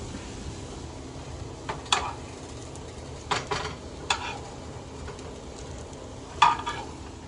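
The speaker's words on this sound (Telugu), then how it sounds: "ఇలాగా గోల్డెన్ కలర్ వచ్చే వరకు బ్రెడ్ స్లైసెస్ని తిప్పుకుంటూ ఇలా చేసుకోవాలండి." Bread slices sizzling gently in a pan while being turned to golden, with a few soft scraping and clinking touches of a utensil against the pan scattered over a steady frying hiss.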